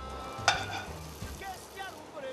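Zucchini slices fry in hot oil in a pan for spaghetti alla Nerano at a trattoria, a steady close sizzle with a sharp crackle near the start and stirring sounds throughout.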